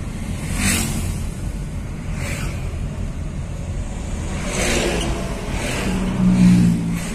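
A Budiman bus rumbles past near a petrol station, a broad steady engine drone with passing whooshes swelling and fading, loudest toward the end.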